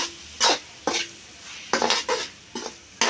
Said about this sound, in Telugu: బాగా కలుపుకోవాలండి.